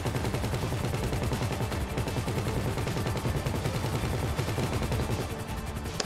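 Sustained automatic gunfire during a GTA 5 heist setup mission, a steady, dense rattle of shots that continues without a break at moderate loudness.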